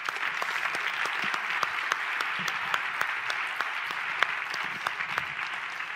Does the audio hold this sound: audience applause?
yes